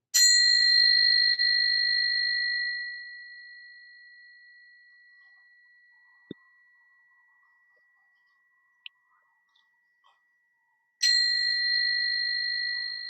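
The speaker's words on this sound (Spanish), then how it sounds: "la campana." A bell-like electronic tone rings at the close of a study session, sounding a sustained ding that fades slowly over several seconds, then strikes again near the end after a few faint clicks in near silence.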